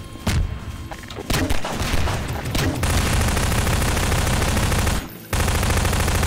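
Gunfire in the video game Garry's Mod, with dense automatic bursts and rapid shots that run almost without a break and stay loud and close. One brief gap comes near the end before the fire resumes.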